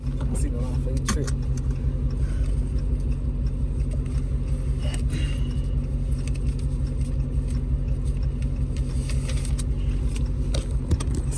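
Steady low rumble of a car being driven, heard from inside the cabin as one continuous drone, with some talking over it.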